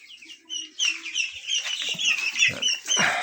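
Rhode Island White cross White Leghorn chicks, two to three weeks old, cluck and peep in a noisy coop, several birds calling over one another with soft clucks and brief rustling bursts.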